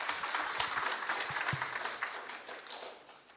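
Audience applause for governors at a blue economy conference, a dense round of clapping from a large crowd that gradually tapers off, heard at a moderate distance with no talking.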